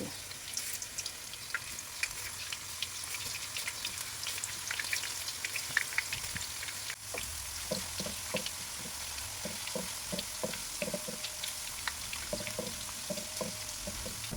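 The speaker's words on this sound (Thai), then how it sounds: "น้ำมันร้อนแล้วนะคะ เราจะใช้ที่ปอกผลไม้แบบนี้ ค่อยๆใส่ กล้วยนะคะ ให้เป็นแผ่น ใส่ลงไปเลย" Thin slices of raw banana, shaved straight into hot oil, fry with a busy crackling sizzle, broken by scattered pops and clinks of stirring that grow more frequent partway through.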